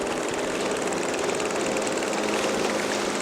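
Boat engines drone steadily and loudly throughout on a dolphin-watching trip off Bali, a constant motor roar with no talk.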